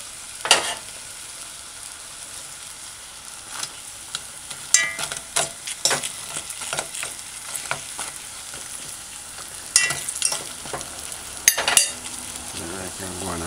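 A piece of bammy fries in oil, a quiet bubbling hiss broken by sharp spattering crackles and occasional stirring or utensil clicks, close by, with no talking.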